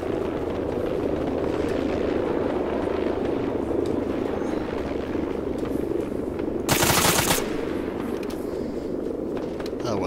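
Large military helicopter in the ARMA 3 video game, a steady loud rotor drone filling the whole clip, joined by a brief harsh burst of gunfire or noise about two thirds of the way through.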